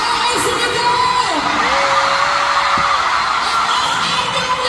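A crowd of fans screams and whoops at a pop concert in an arena, a dense, loud wall of cheering with individual high yells sliding above it throughout.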